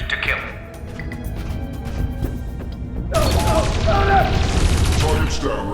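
Gunfire in the video game Dreamfall Chapters, a sustained loud volley of shots and crashing impacts that swells in the second half, with game voices talking over it.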